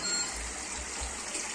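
Water falls steadily into a home aquarium, a soft continuous splashing hiss that is faint and close, with no voices.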